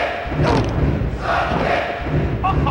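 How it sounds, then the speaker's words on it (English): Loud, continuous video game crowd roar from a WWF Attitude wrestling match, a dense cheering wash that holds steady throughout with brief thuds of ring action mixed in. "This crowd is going bananas."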